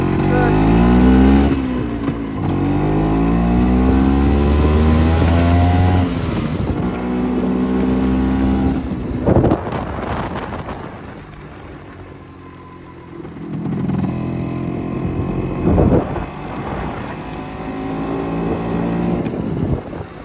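A raffle scooter's engine idles steadily and loud and close, with a throttle rise around the middle, while someone talks over it.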